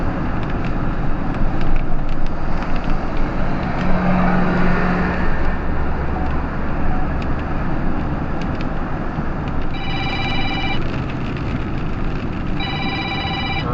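A car drives through a severe thunderstorm under a tornado warning in Sumner, Robertson and Davidson County, Tennessee, its steady road and rain roar filling the cabin while a phone alert chimes twice near the end.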